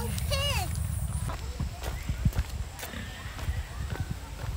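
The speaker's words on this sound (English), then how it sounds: "The horses are over here though, Elodie." Horse hooves clip-clop on the ground at a ranch, a scattering of uneven knocks close by beneath family chatter, with a brief rising call near the start.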